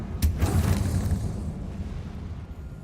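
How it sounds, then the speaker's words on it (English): A Bombarda spell detonates in the Hogwarts Legacy video game, a single close, loud blast with a sharp crack at the start and a rumbling boom that fades slowly. "So bombardment doesn't work on measly spider webs."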